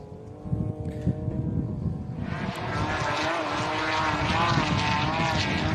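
An off-road racing motorbike held at full throttle in deep sand during a race, its engine droning and rising to a loud, harmonic-rich roar, with commentary spoken over it.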